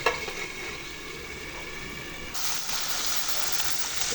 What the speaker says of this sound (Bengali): এই দেখেন, আমার মশলাটা কিন্তু অনেক সুন্দর মতো কষানো হচ্ছে